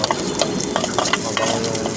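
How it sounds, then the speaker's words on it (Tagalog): Garlic and onion sizzle and crackle in a frying pan for sautéed pechay, with repeated scraping stir strokes sounding close and steady throughout. "Una na nilagay yung bawang at sunod ay yung sibuyas. Halo-haloy lang guys hanggang sa magano-halo siya"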